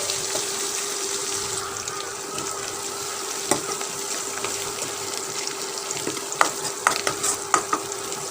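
Crushed garlic, chopped onion and two bay leaves fry in oil in a pan, giving a steady close sizzle with occasional sharp clicks and stirring scrapes, louder toward the end; no talking.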